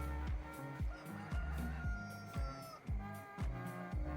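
Chickens in the Farming Simulator 19 video game cluck and crow in a repeating looped pattern, close and clear over a steady farmyard ambience, with no one talking.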